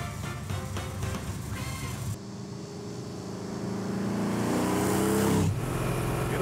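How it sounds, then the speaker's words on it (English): A high-powered classic Mercedes car engine starts up after a brief pause, then idles and rises into a loud, swelling rev before easing off, close by and alone without talk. "Let's pin this thing and fire this baby up."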